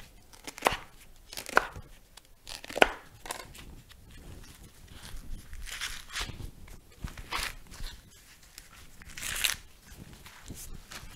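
Squash vines being chopped for caldo de guías in a home kitchen, with a handful of sharp, separate cuts spread unevenly over a quiet background.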